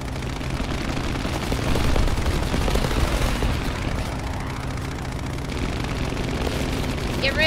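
Dense, continuous gunfire and explosions in the combat game War Thunder, a loud unbroken barrage of shots and booms with faint voices mixed underneath.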